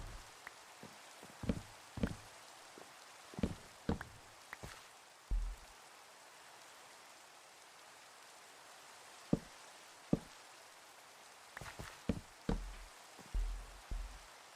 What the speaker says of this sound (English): And the rain is back with a vengeance.